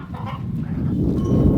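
A goose honks on a family homestead, in a high tunnel where chickens are also kept, its calls rising over a steady, busy backdrop of farmyard noise.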